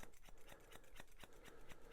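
Straight scissors snip steadily over an English Cocker Spaniel's foot fur during grooming, a regular rhythm of crisp, close metallic cuts about every quarter second, with no talking.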